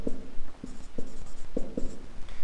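Chalk or pen strokes on a board or notebook during a Turkish literature lesson, heard as a series of short scraping taps in irregular rhythm, close and fairly clear, with no talk over them.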